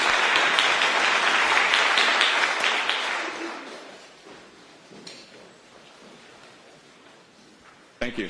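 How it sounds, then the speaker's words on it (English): Morning seminar audience giving a round of applause, dense clapping for about three seconds that fades into quiet room tone, with a brief sound near the end. "So let's give Peter a round of applause for coming back here to report just as he does at the club"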